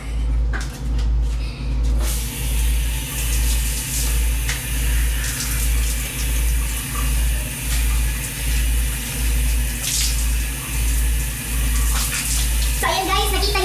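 A shower runs steadily before a swim in a mountain-resort pool, with a continuous watery hiss over a low rhythmic pump hum. A few faint clunks and brief voices come near the start and end.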